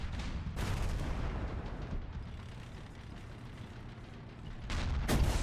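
In War Thunder tank combat with an AMX-30, a cannon round strikes an enemy tank's ammo rack. Rumbling, crackling blasts roll on throughout, with heavy booming bursts near the start and again at the end.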